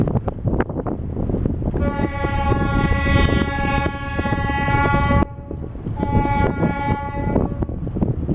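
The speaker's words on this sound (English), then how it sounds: "One prolonged whistle, one short whistle means bridge opening." A boat sounds its whistle signal to request a swing bridge opening on the Gasparilla waterway in Florida: a loud, sustained horn-like blast of about three and a half seconds, a brief gap, then a shorter blast of about two seconds over engine rumble.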